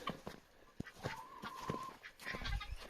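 Chickens cluck and chatter nearby in a pen shared with guinea fowl, with a drawn-out squawk midway through and soft scratchy outdoor noise around them.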